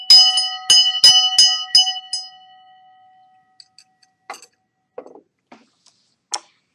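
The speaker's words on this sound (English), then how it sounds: "Let's start up by ringing the bell of Genesis." A bell, called the bell of Genesis, is struck about five times in quick succession at the start of a spiritual session. Each bright, close ring overlaps the next, then the tone fades, leaving a few faint clicks.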